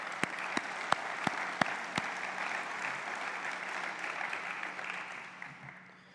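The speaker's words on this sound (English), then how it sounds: "let's give them a round of applause" An audience applauds World War II veterans at an 80th anniversary end-of-war symposium, a steady wash of clapping that opens with a few sharp, distinct claps and slowly fades toward the end.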